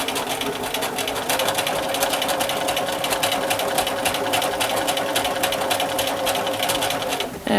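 A sewing machine stitches fabric in a fast, even mechanical chatter, running steadily and close for several seconds before stopping abruptly at the end.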